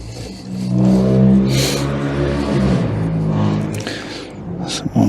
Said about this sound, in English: Someone's got a rough sounding exhaust.